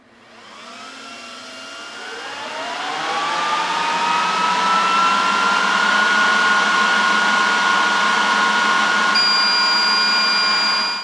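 An archive storage server spins up at startup, its fans rising over the first few seconds into a loud, steady whine and rush, then holding at full speed alone until a slight drop at the very end.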